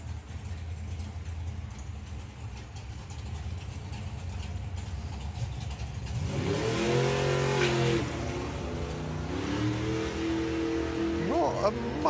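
A drag racing car launches and accelerates hard down the strip at a FIA Main Event meet, its engine rising loudly from about six seconds over steady crowd and ambient noise, with a second rising rev near the end.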